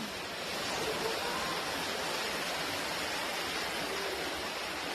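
Floodwater rushes down a building hallway in New York City, a steady, broadband roaring wash that stays constant and fairly faint throughout, with no voices.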